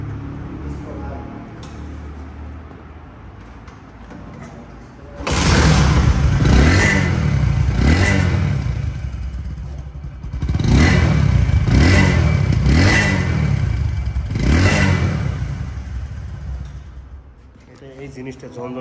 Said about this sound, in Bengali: বাইকটির সাউন্ড কোয়ালিটি শোনাবো, যেহেতু 100 ডিসকভারের একটু চাহিদা বেশি